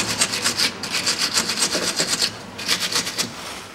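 Rhythmic scraping of corroded bolt threads being cleaned on the rear stabilizer of a 2012 Nissan Qashqai 2.0, rapid back-and-forth strokes close up, pausing briefly midway before resuming, with no talking.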